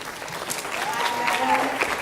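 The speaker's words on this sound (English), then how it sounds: "Give them another round of applause." An audience at a conference panel gives a round of applause, moderate clapping running under a speaking voice.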